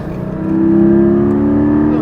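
A Porsche 718 Spyder accelerates hard, its engine note rising into a loud, sustained, strongly tonal roar that builds through the first second and then holds steady close to the microphone.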